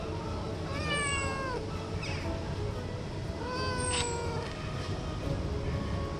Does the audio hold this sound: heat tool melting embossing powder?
no